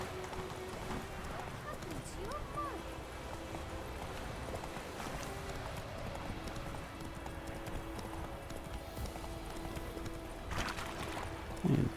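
Horse hooves clip-clop at a steady pace through a Witcher 3 game landscape, a continuous rhythmic patter under a game music bed and ambient sound, with a brief whinny near the start.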